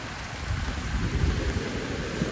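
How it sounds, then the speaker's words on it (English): Cold, rainy, windy weather in St. Petersburg, Russia, heard as a steady close roar of rain and gusting wind with low rumbling, continuous and loud, with no voices. "Yes, this is typical St. Petersburgian weather. Cold, rainy, and windy."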